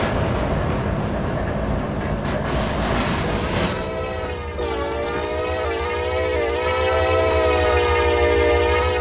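Train sounds from the Train Sim World 2022 game: a loud, steady rumble of rolling stock with clattering noise, then a sustained, wavering multi-tone horn blast that carries on to the end.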